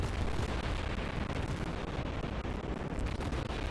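Naval gunfire and explosions in World of Warships as two St. Louis cruisers trade shots, a dense, continuous roar of booming salvos and blasts filling the whole stretch with no pauses.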